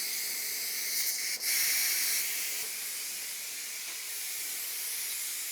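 A pressure cooker on high heat gives off a steady, fairly loud airy hiss of escaping steam that runs the whole time with only a brief dip, and no voices.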